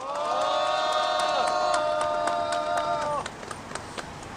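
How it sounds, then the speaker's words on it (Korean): Crowd of union members clapping and cheering at an outdoor press conference calling for resolution of a labor dispute, a loud sustained burst of applause and shouts that cuts off abruptly, leaving a few scattered claps. "여기 계신 동지들의 박수와 함성으로 시작할 수"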